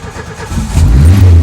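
A Renault Super 5 GT Turbo engine running on the choke: a quiet start, then a close low engine rumble that swells and holds steady at a raised idle.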